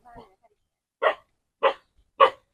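A dog barks three times in a steady, evenly spaced sequence, each bark short and fairly close, after a brief faint vocal sound at the start.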